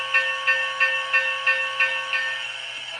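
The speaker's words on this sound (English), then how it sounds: "like the air pump sounds with this" The air pump on a model steam locomotive hisses in regular rhythmic puffs, about seven evenly spaced chuffs over a steady whistling tone that fades slightly toward the end.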